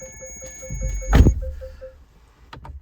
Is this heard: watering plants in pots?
no